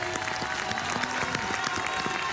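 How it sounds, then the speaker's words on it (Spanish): Audience applause at a human rights award ceremony in Antofagasta, with the crowd rising to its feet: dense, steady clapping throughout, with a voice speaking over it. "Redoblemos ese aplauso."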